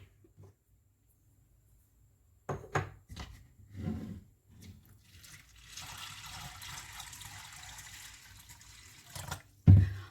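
Water pours over half a kilo of white chickpeas with a pinch of baking soda, set to soak overnight, coming in short splashing bursts and then a steady moderate fill after a quiet start.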